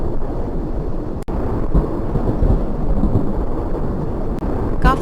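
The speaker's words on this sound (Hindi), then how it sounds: "बाहर घना अंधेरा और मूसलाधार बारिश थी।" Cartoon thunderstorm with heavy rain: a steady loud downpour roars throughout, broken by a sharp crack of thunder early on and another near the end.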